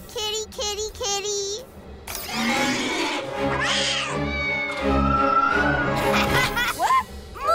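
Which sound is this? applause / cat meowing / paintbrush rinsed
cat meowing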